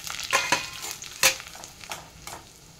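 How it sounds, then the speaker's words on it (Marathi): Semolina roasting in ghee in a pan for a sweet offering: a soft, steady sizzle broken by several sharp scraping stirs, close and with no talk. "थोडंसं आपण रवा भाजण्यासाठी तूप घेऊ, गुलाबी रंगावर भाजून घेऊ"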